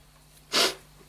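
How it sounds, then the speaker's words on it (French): One sharp, close human sneeze bursts out briefly against a quiet background. "Attention, j'ai éternué."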